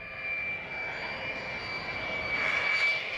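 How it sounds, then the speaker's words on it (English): An F-35 jet flies low over a runway, a sustained steady roar with a high whine that swells slightly toward the end, fairly distant and moderate in level, with no talk. "the test requires Rowdy to fly so close to the ground, any error or technical problem may be fatal"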